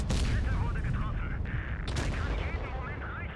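Tank cannon fire and explosions in the mobile game World of Tanks Blitz, with tungsten ammunition, loud dense blasts and rumbling battle noise filling the whole stretch.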